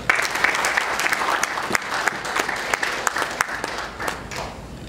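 Applause from a large audience at an official ceremony honouring a marathon runner, a dense steady burst of many hands clapping throughout, loud and close.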